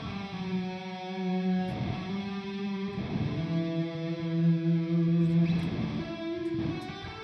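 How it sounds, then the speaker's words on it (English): Electric guitar run through a live rig with a Lexicon room, harmonizer and lush plate reverb, ringing sustained harmonized chords with shimmering decay and a few fresh strums, loud and alone. "I got the Lex Room and the harmonizer on there still, but the plate reverb just does something really nice."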